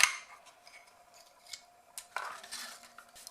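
A paper punch perforates a card, giving a few sharp, quiet snipping clicks spaced irregularly, with no talk.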